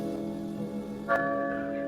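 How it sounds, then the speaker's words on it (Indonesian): A church bell rings in a film scene: a sustained, resonant metallic tone with lingering overtones, struck again partway through, moderately quiet with no voices. "Mon mendengar suara lonceng gereja"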